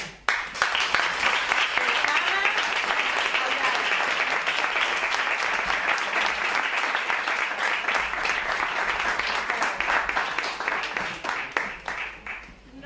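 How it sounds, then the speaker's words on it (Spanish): Dense, sustained applause from a sizeable audience at a gala and awards event in a rural hotel, greeting a mindfulness instructor as she is introduced; loud and steady for about twelve seconds, then tapering off, with faint voices underneath. "un fuerte aplauso"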